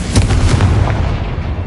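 A Confringo fire spell detonates in the video game Hogwarts Legacy, a single loud booming blast with a short rumbling tail. No voices are heard.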